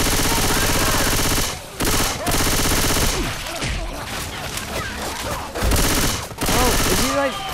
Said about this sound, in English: And it's time to pull out my gun.